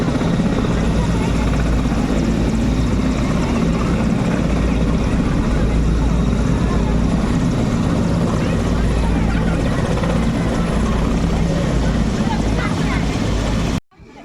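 A helicopter's rotor and engine drone steady and loud outdoors at a village visited by the President of India, holding constant until an abrupt cutoff, with people talking faintly underneath.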